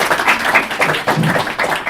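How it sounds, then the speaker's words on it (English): An audience at an IEEE EPICS event applauds the winning team, a steady wash of dense clapping throughout with no break. "big round of applause for our winning team"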